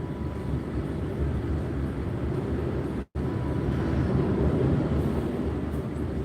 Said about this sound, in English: The plane literally flew right over the car, and you could see it through the glass in the roof.